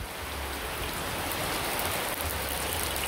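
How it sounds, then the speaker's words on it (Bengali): Steady rain pours down in a broadband hiss with dense droplet texture, close and continuous, splashing beside a kitchen where eggs are frying in oil. "দেখেন বৃষ্টির জল ছিটিয়া ছিটিয়া বেরোইছে আমার তেলের মধ্যে।"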